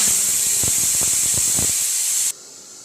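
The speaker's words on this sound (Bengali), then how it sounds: "ছোলা সিটি পড়ছে, ছোলাও যাবে এতে, ছোলাটা সেদ্ধতে বসিয়েছি।" A pressure cooker boiling chickpeas lets out a loud, steady steam hiss with a high whistling edge and a few soft pulses, then stops abruptly just over two seconds in.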